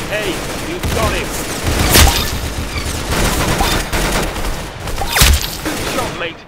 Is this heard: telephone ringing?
no